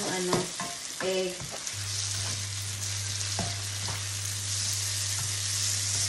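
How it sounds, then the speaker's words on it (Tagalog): Mushrooms sizzling in a pan before eggs go in for an omelette, a steady close frying hiss with a few clattering stirs of a utensil near the start, no talking. "Lutuin lang natin yung konti yung mushroom bago natin ilagay yung egg"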